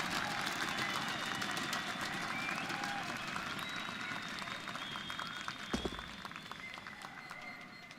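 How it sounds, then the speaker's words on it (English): Crowd cheering and applause fill a large arena during a CS:GO Counter-Strike esports semifinal at ESL One Cologne 2017, a steady dense roar with claps running throughout and a commentator's voice laid over it. "With the crowd against him, the cheers coming through"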